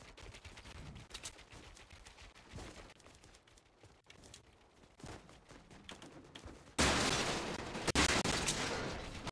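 Gunfire in Fortnite: scattered faint shots early on, then a loud, dense burst of rapid firing takes over for the final few seconds.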